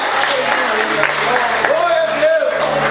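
A church congregation claps steadily in a broad wash of applause while a pastor speaks and cries out over it.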